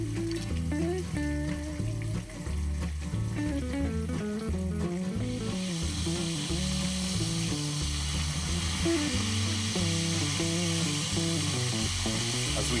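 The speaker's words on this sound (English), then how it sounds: "I'll let the scallopini cook until they're brown on one side." Scallopini fry in a hot pan with a loud, continuous sizzle and crackle that holds steady throughout, close up and with no speech over it.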